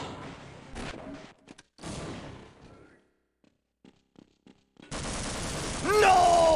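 A grenade blast and gunfire in Half-Life, with loud bursts of shots and a blast, then a short quiet gap before another loud, sustained explosive roar.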